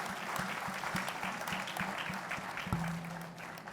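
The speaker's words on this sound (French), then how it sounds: "Encore vos applaudissements pour lui." Dinner audience applauding at an annual banquet, a steady wash of clapping throughout with faint low thumps underneath and a brief hum near the end.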